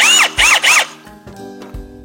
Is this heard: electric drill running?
yes